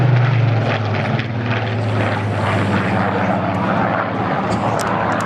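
A Rolls-Royce-owned Spitfire flying at the Clacton-on-Sea air show in Essex, its piston engine and propeller giving a loud, continuous roar that stays strong and close throughout.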